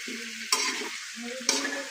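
Chicken fries in a pan with a steady hiss, broken by two sharp scraping stirs of a utensil against the pan, close and fairly quiet.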